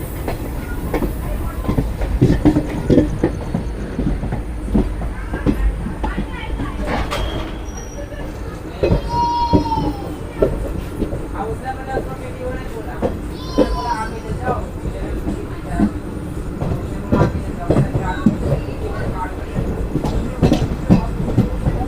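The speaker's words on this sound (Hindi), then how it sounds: "हमारी ट्रेन देहरादून से निकल रही है। ट्रैक साउंड्स आप सुन रहे होंगे" Mussoorie Express 14042 overnight train leaving Dehradun, with steady rumbling track noise and rail clatter throughout, occasional squeals and speech in the carriage.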